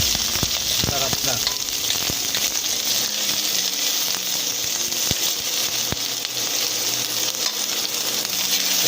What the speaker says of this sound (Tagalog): igisa na tayo ng sibuyas